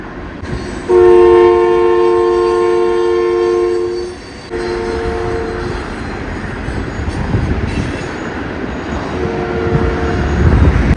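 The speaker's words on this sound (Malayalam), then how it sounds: "കറക്റ്റ് സമയത്ത് ഒരു ട്രെയിൻ വന്നു." A train passes loudly and close through the Truckee hills in California, its horn sounding in a long chord, breaking off, then blowing again, over a steady rumble of rolling wagons.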